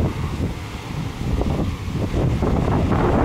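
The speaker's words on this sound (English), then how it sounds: "Very windy today, not a good day for fishing." Strong wind buffets the microphone on an open farm field during harvest season, a continuous roaring rumble that swells and stays loud throughout with no voices.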